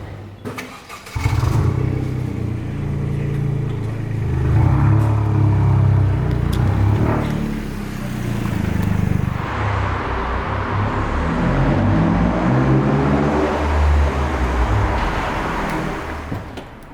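A supercar convoy including a GR Yaris, a Porsche 911 and a Lamborghini fires up after a brief click, then loud, close engines rumble and rev continuously, rising and falling for over fifteen seconds with no talking.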